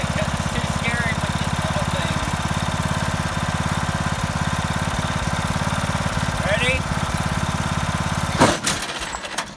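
A homemade racing lawnmower's small engine runs loud and steady at close range with its wheels spinning, then a sudden clattering burst near the end before the engine note drops away.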